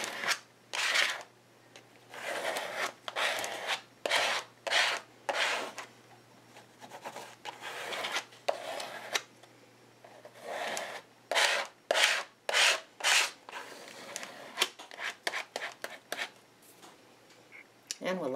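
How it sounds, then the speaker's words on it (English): A card drags paint across a paper page in a mixed-media piece, making repeated close scraping strokes, some short and some longer, with brief gaps between them and soft speech now and then. "Mush that around and drag it down the page."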